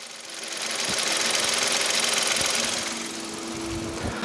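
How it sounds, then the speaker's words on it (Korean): A small three-cylinder Kappa engine of just under 1000cc in a Kia Ray light car idles steadily up close, with a fast, even mechanical thrum and faint rhythmic ticking throughout, no talking. "일단 엔진 소리 바로 들려드릴게요"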